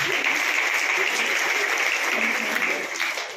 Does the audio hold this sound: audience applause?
yes